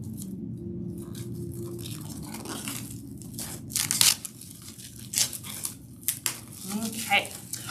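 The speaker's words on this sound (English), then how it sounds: "you can take the plastic off of your canvas" Plastic wrapping is peeled and torn off a canvas up close in a series of irregular crinkles and sharp rips, the loudest bursts coming late, with quiet speech in between.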